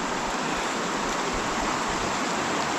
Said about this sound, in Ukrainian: Вон ще один струмочок впадає в цю річку.